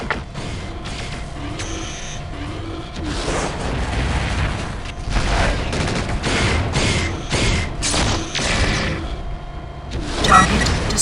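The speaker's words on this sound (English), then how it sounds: "try not to get too close to the explosions" Explosions in the Mechwarrior 4 Vengeance video game, a run of loud booming blasts and crackling detonations, some overlapping, with brief pauses between bursts.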